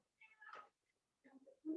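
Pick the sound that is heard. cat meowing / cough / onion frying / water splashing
cat meowing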